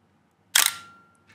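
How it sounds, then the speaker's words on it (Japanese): Pentax SL film camera firing its shutter at 1/125 s, one sharp mirror-slap and shutter clack followed by a short ringing tail and a faint second click, close and isolated in a quiet room. "ペンタックス SL シャッタースピード125です。"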